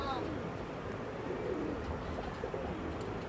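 Andhra and Malwai pigeons in a loft give low, rolling coos close by, continuous over a dense bed of background noise.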